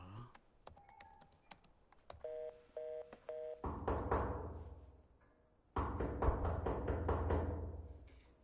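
A quick run of phone keypad beeps, several short tones in a row, followed by a ringing tone that repeats twice, close and clear.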